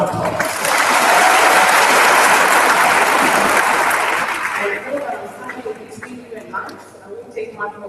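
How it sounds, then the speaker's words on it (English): A conference audience at an education and leadership congress gives a loud, full round of applause that holds steady for several seconds, then fades into scattered claps and murmuring chatter. "Give yourself a round of applause."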